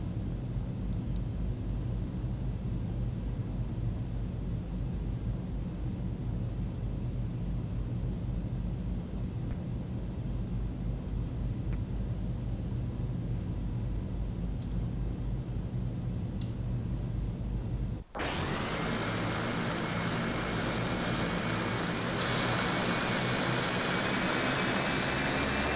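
Simulated airliner engines in the X-Plane 11 flight simulator drone steadily at taxi, then jump abruptly to a louder, brighter whine partway through and hold there, with no talking.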